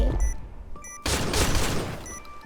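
JackHammer shotgun fire in the video game Point Blank, a burst of loud, closely spaced shots with an abrupt heavy blast, surrounded by short electronic game tones.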